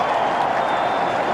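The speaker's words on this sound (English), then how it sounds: "So that's set the Carisbrook crowd alight." A cricket crowd at Carisbrook in Dunedin roars and applauds during a 1992 World Cup league match between India and New Zealand, a dense, loud, sustained wash of cheering heard from the stands.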